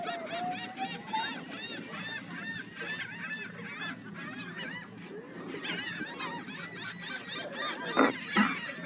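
Geese bobbing on the water honk over and over in a busy, overlapping chorus, with a couple of louder splashy bursts near the end.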